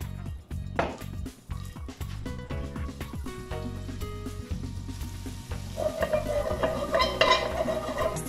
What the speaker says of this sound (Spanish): Es importante formar las albondiguillas y sellarlas en la misma sartén.